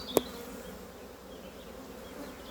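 A honeybee colony in a hive, a low steady hum of buzzing bees throughout, with one sharp click near the start.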